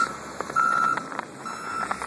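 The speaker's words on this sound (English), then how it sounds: "They are removing the snow from in town with loaders and dump trucks." Reversing beeps from snow-removal loaders and dump trucks clearing town streets after a blizzard, a steady series of high electronic pips heard from a moderate distance over low engine rumble.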